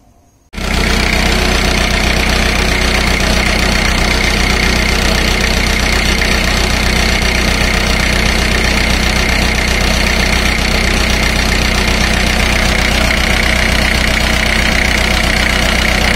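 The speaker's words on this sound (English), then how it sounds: "Let's start the engine" A car engine, prepared for a cylinder power balance test, starts up within the first second and then idles loudly and steadily with a constant even drone to the end.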